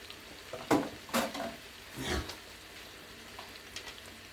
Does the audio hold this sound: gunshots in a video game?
no